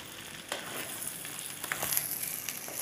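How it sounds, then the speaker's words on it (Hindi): Chopped capsicum and cabbage fry in a pan, giving a steady, close sizzle with faint stirring scrapes now and then, and no voices. "फिर हम इसके बाद इन दोनों को भून लेंगे"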